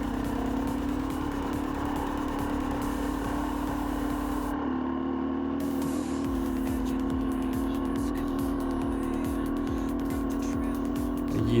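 An enduro motorcycle ridden slowly along a Carpathian mountain trail, its engine droning steadily and loudly throughout with small shifts in pitch, alongside wind rush and rattling.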